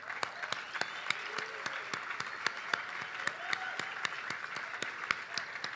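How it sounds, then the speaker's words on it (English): A crowd at the opening ceremony of the 2023 Surf City El Salvador ISA World Surfing Games gives a round of applause for new countries: steady, moderately distant clapping with sharp individual claps standing out and faint voices beneath. "a big round of applause for the Czech Republic, Latvia, India, and Mauritius"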